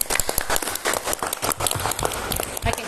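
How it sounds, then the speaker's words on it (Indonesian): Students clapping in a classroom during a group guidance role-playing session, a short burst of uneven, fairly close applause with a few voices mixed in. "Tepuk tangan dulu untuk Nak Pinti."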